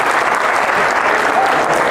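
A stand-up comedy crowd claps loudly and continuously, a dense wash of hands filling the room with a faint murmur of voices mixed in.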